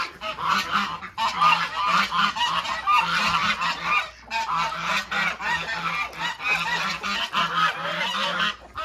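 Geese honk loudly and repeatedly in a noisy, overlapping chorus at a farm coop, close by, with a brief pause midway.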